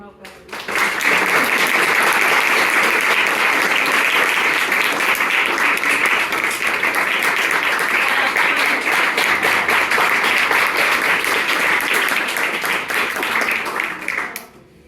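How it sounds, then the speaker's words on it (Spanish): Audience applause in a theatre class, loud close clapping that starts abruptly, holds a dense steady level for over ten seconds, then fades at the end, with some voices mixed in. "Un aplauso para el cabo perro."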